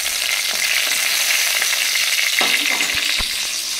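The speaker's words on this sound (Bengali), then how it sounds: "ডালে শুকনো লঙ্কা দিয়ে দিয়েছি।" Dried red chillies fry in hot oil as a tempering for dal, making a loud, steady sizzle with a few sharp clicks near the end.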